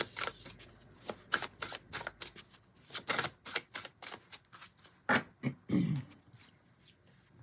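Oracle cards being shuffled for a tarot reading, close and soft, with rapid riffling flutters and papery slaps in uneven bursts.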